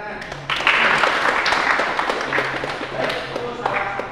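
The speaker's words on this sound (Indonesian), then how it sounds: "Oke, tepuk tangan." An audience claps after a classroom lesson on car cooling systems, scattered hand claps building into a short burst of applause that lasts a few seconds, with voices mixed in underneath.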